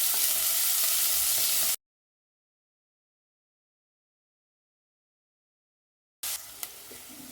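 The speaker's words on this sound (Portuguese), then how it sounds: "entrar com a nossa cebola picadinha. E deixar ela refogar bem também." Chopped onion sautéing in a pan for a sardine cuscuz paulista, giving a steady broadband sizzle that cuts out into silence midway and then returns with a few faint stirring clicks.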